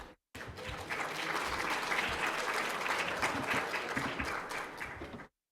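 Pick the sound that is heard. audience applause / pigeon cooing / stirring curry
audience applause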